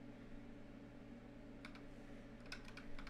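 Keys clatter in two short bursts of typing on a computer keyboard as a password is entered, faint and close over a steady low electrical hum.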